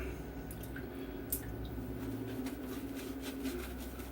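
Water drips and trickles onto a puck of Stirling Sandpiper shaving soap, a soft, close, wet patter that runs steadily and alone for a few seconds.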